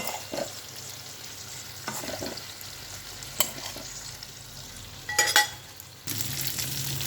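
Onions frying in oil in a pan, with steady sizzling under the scrape and clatter of a ladle being stirred through them, a few sharper metallic knocks partway through, and the sizzle swelling louder toward the end.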